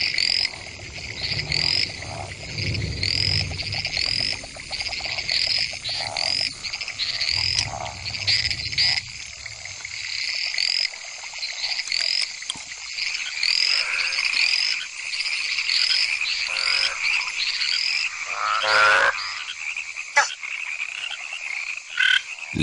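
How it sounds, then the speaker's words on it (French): Many frogs of several species croak together in a night chorus, with dense overlapping calls, a steady high trilling layer and rhythmic pulsed croaks, some low and near, continuing without pause. "La cacophonie des chants en compétition peut sembler assourdissante, mais les oreilles des grenouilles ne sont branchées que sur les chants de leur propre espèce."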